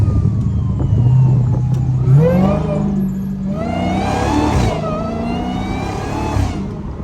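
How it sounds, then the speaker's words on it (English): A police siren passes while a car engine runs nearby. The wailing tone rises and falls over the steady engine drone and loud road noise. "I hear police or something."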